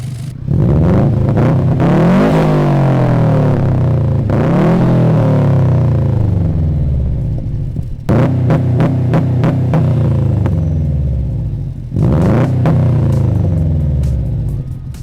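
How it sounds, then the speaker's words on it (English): Subaru WRX/STI fitted with a new dual-exit catback exhaust, with exhaust leaks, revving loudly and close up in four repeated surges, each climbing then falling back to a throbbing idle. "we were able to get this new exhaust on the car, swapped out that single exit for the dual exit"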